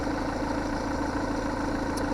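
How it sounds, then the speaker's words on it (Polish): A Peugeot 308 with a 2.0 HDi 150 hp diesel engine idles steadily up close while warming up, a constant low rumble with an even mechanical vibration and no other sounds. "Silnik zostawiłem odpalony, żeby się tutaj rozgrzało wszystko."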